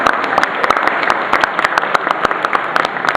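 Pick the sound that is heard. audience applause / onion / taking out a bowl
audience applause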